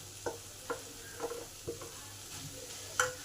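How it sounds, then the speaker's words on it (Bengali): Mashed potato being stirred and fried with spices in hot oil, a quiet steady sizzle broken by several soft scraping strokes of a spoon at an even pace, close by. "এই আলুটাকেও এই মশলার সাথে একটু ভালো করে কষে নেব"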